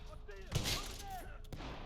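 Video game gunfire, a short burst of shots mixed with game sounds and faint voice chatter, fairly quiet overall.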